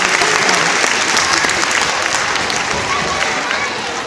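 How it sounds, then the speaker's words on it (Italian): An audience at a children's Christmas show with a B-boy dance performance breaks into loud, sustained applause mixed with crowd noise, easing slightly toward the end. "Un applauso."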